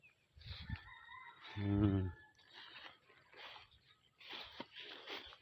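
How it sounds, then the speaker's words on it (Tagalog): A hen clucks and croaks in short bursts, with a louder drawn-out call in the middle and rustling around it outdoors. "Yan ang isang inahin."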